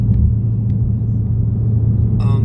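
A Mustang GT running a Lund 93 tune rumbles along with a deep steady engine drone heard from inside the car, and a brief clatter near the end.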